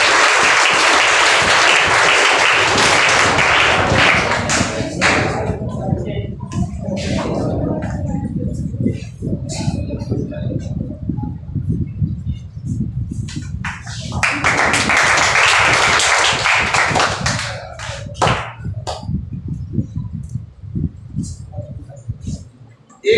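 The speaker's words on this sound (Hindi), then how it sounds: "चल ताली मारो" Audience clapping at a talent award ceremony held by a coaching institute, with loud bursts of applause at the start and again midway and scattered claps in between.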